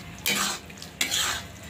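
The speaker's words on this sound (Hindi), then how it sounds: "मीडियम फ्लेम पे हम भून रहे हैं," Green peas being roasted with masala in a pan over a medium flame, heard as two brief bursts of close stirring and scraping against the pan.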